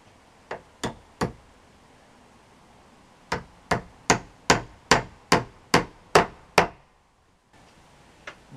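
Hammer blows driving nails into a wooden shed wall: three quick strikes, a pause, then a steady run of about ten sharp, close, ringing hits, no talking.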